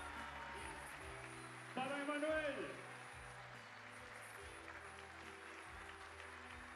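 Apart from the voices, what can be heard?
audience applause at a singing workshop show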